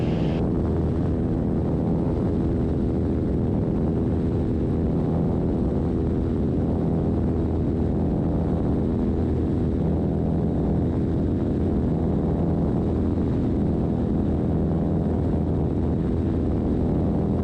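Steady, loud engine and propeller drone fills a small airplane's cabin in flight on an air tour. It is continuous and even throughout, with no talk above it.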